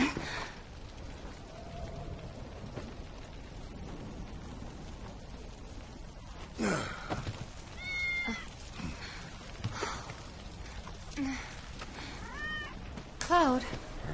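A cat meows a few times in Final Fantasy VII Remake, short harmonic calls standing out near the end over a soft rainy game ambience, with voices speaking around them.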